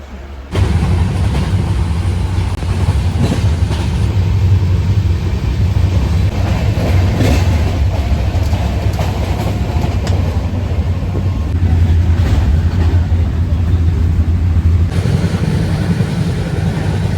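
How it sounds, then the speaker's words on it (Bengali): A passenger train departing a station and running on the rails, a loud steady rumble heard from on board with rhythmic clattering and rattling that continues throughout. "আমাদের ট্রেন 4:05-এ টাইম ছিল, আর একদম পারফেক্ট টাইমে হচ্ছে ছেড়ে দিয়েছে"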